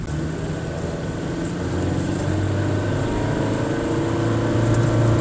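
Cabin drone of a 2023 Honda BR-V 1.5 S CVT under way: a steady, continuous engine and road hum with no gear-shift breaks, building slightly in loudness over several seconds.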